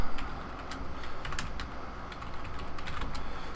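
Rapid typing on a computer keyboard while code is written for a Raspberry Pi Twitter project, a dense run of fairly loud clicking keystrokes over steady room noise, with no voices.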